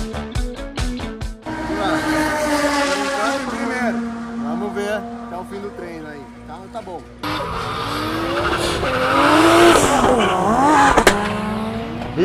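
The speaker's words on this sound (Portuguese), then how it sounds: "aqui tá rolando o Ultimate Drift, um campeonato brasileiro de drift" Drift cars at a Brazilian drift championship in Londrina: loud, sustained tire squeal and revving engines, rising and falling as the cars slide past, with a crowd or announcer voice mixed in.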